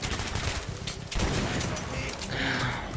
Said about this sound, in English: So much shooting though.